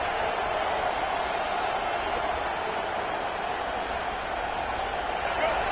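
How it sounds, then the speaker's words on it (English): A college football video game stadium crowd roars in a steady, loud wash of cheering and noise throughout, a constant broad rumble with no distinct breaks. "This crowd bringing the energy and noise early."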